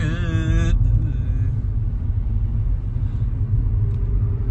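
Steady low rumble inside a moving car on a road, loud and continuous from start to finish, with a brief voice-like tonal sound at the very beginning before the cabin noise takes over alone.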